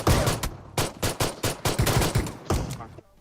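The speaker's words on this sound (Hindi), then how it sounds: "यहाँ पर कोई शॉटगन भी चला रहा है।" Shotgun blasts in the video game PUBG Mobile boom out in a steady series of loud, heavy reports, about a dozen evenly spaced shots in quick succession.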